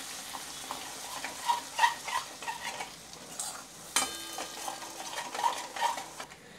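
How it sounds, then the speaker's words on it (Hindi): Spices frying in a little oil over a low gas flame, a soft steady sizzle under intermittent scraping and clinking of a spoon stirring against the pan, quiet and close. "थोड़ा सा तेल में भून लेते मसाले को।"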